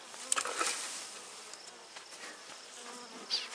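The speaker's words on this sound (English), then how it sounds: "the bees are a little bit calmer, maybe" Honey bees hum steadily inside a hive that was recently re-queened, a close, dense drone of many wings that swells slightly now and then, with no talking.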